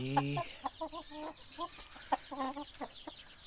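Chickens cluck in a coop shared with ducks, with a series of short, close, repeated clucks and calls in uneven bursts and no talking.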